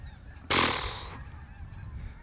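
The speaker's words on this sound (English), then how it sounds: "there's a freaking grind of geese right here on the other side of the levee" A flock of geese honks just beyond a levee, in one loud, close burst of overlapping calls lasting under a second and then fading into faint outdoor background.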